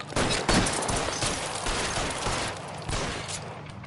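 Rapid gunfire in an L.A. Noire shootout, a dense, loud run of overlapping shots filling a few seconds with hardly a pause.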